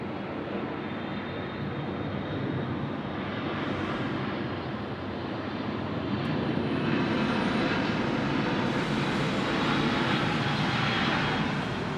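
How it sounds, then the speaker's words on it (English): An airplane lines up on a runway at Sydney Airport in heavy rain, its steady engine roar blending with a continuous broadband rain wash that swells slightly toward the end, with no voices. "Line up, we're on runway 16 right,"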